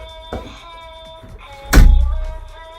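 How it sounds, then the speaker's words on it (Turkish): A door is shut indoors with one solid thunk, heavy and close, following a softer knock, with a steady tone from electronic game sound playing in the background. "kapıyı ört"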